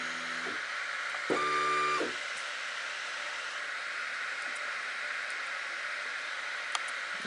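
The head of a Longer RAY5 laser engraver moves at high speed with two short, faint bursts of stepper-motor whine a moment apart, over a constant fan hiss.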